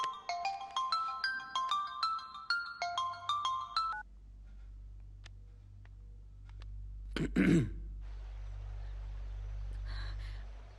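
A phone ringtone plays a repeating melodic pattern for a few seconds, then stops, followed by a brief throat clearing and a low background hum.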